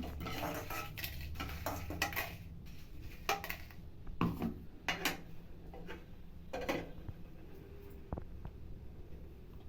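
Roasted green chillies go into a steel mixer jar in a home kitchen, making a run of light metallic clinks and taps at an uneven rhythm, close and fairly quiet, with no talking.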